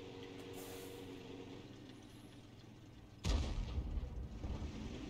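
A single loud, booming shot from an M41 HMC self-propelled howitzer in a tank video game, landing suddenly after a steady low engine rumble and followed by a rolling tail, with no talk.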